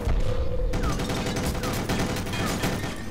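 Automated turrets firing in the cyberpunk shooter game EYE: Divine Cybermancy, a loud sustained burst of rapid shots with dense rattling and a few higher whines over a heavy low rumble.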